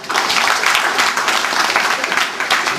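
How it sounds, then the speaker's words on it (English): A lecture-hall audience at a distinguished lecture breaks into steady, dense applause, sustained and fairly loud for the whole stretch. "Let us also give a big applause to Rajashekhara garu."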